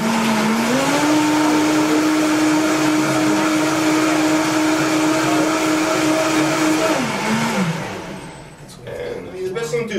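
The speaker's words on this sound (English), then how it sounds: "And so we're going to add this, our handy dandy blender." Blender whirring loudly while making fish stock, a steady motor drone that holds pitch for several seconds, then winds down near the end into clattering and brief voices.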